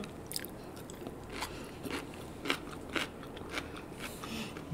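Steak being chewed loudly close to the mouth, with a run of sharp, crunchy bites and wet mastication clicks in an irregular rhythm over a quiet background.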